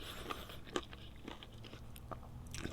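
Crisp, quiet crunches and chewing as someone bites into a homemade crispy fried chicken strip, a few sharp bites followed by softer mastication, close to the mic with no talking.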